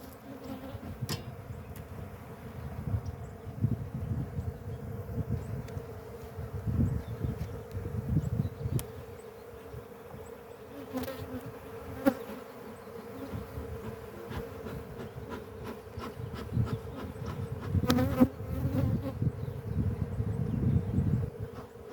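Honeybees from a yellow hive swarm around during a February inspection, a continuous dense buzzing drone that swells and eases over the whole stretch, close and steady with no talking.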